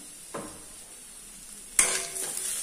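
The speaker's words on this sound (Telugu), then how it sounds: "ఇది కూడా బాగా ఫ్రై అవ్వాలన్నమాట అండి." A ridge gourd curry base sizzles softly in a pan, with two distinct scraping stirs of a spoon against the pan, close and clear, and no voices.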